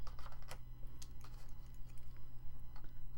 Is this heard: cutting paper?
yes